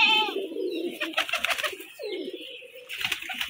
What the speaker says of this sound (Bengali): মজার বিষয় হচ্ছে যে দেখেন এটা মাখরা চোখের মাক্সি কবুতর